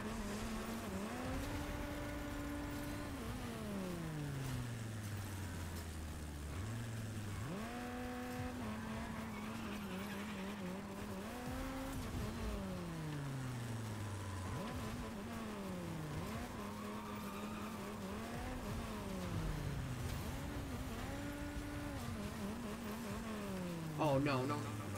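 Fortnite Rocket Racing cars roar at close range, engine pitch sliding sharply down then climbing again through repeated shifts, with skidding tire squeals and a buzzing whine; a voice talks over the racing.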